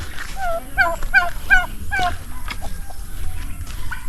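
Several nasal, honking turkey calls in a quick rhythmic series, fairly near, over rough outdoor farm background noise.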